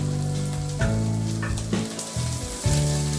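Red chili powder made from Byadgi chilies sizzles as it fries in hot oil for a rustic sukke chicken, with a steady close crackle and brief stirring scrapes running through the whole stretch.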